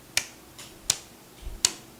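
Three sharp, evenly spaced hand claps, struck crisply at a set angle in a quiet room, each a lone close transient with silence between.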